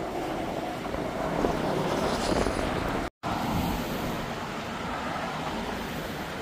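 A Yellowstone geyser or boiling hot spring beside a river gives off a continuous broad rushing hiss, steady and fairly loud throughout, mixed with outdoor wind.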